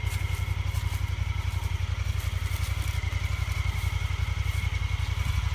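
Honda Pioneer 1000-5 Deluxe utility vehicle engine running, a steady low rhythmic thrumming pulse at a constant pace, with light clatter over it.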